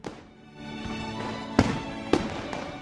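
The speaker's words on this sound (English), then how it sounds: "She had never seen such fireworks before." Fireworks bursting in the sky above a ship at sea during a night celebration, with two sharp cracking bangs over a steady crackling rumble and no voices.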